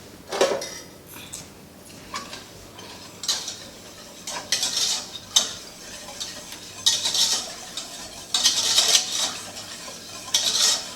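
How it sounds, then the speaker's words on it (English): A whisk beats a sweet strawberry pie gelatin mixture in a bowl, producing bursts of quick metallic scraping and clinking that come and go in uneven waves, close by with no talking. "Let me grab a whisk over here."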